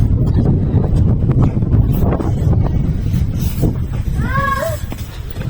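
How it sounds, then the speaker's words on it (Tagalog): Strong wind buffets the microphone outdoors near a playground on a windy day, a steady low roar with brief bird-like chirps near the end. "Windy kasi, mahangin. Kaya malamig."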